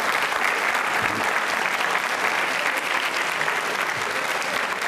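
Students and guests at a school quiz show with a food minister burst into continuous, dense applause that holds at an even level throughout.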